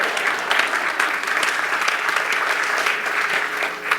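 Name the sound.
audience applause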